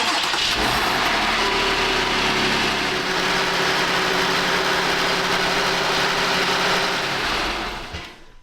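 A Jeep JL Wrangler engine cranks and catches right after an oil change, then settles into a steady, loud idle for several seconds before the sound cuts off at the end.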